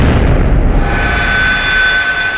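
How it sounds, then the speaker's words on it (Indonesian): A very loud explosion booms in an audio drama, its dense low rumble filling the whole stretch alone before a bright ringing tail lingers and slowly settles, with no voices. "sebuah suara ledakan yang sangat nyaring memecah langit"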